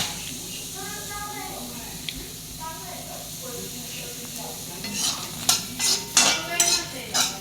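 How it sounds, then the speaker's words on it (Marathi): Onion being fried in a well-heated kadhai for a bitter gourd curry, a soft sizzle and stirring scrapes that grow louder and more broken toward the end, with a voice talking over the first part. "कढई गरम करत ठेवली होती, चांगली तापली आहे। त्याच्यात घालूया आता आपण हा कांदा लाल होण्यासाठी"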